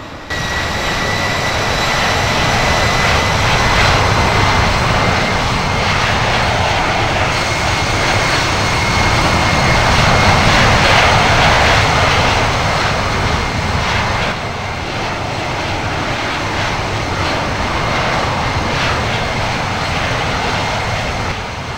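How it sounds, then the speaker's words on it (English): A jet airliner taking off from runway 26 right at Las Vegas, a loud steady engine roar that holds throughout, heard from inside the cabin with no talk. "Cleared for takeoff, runway 26 right."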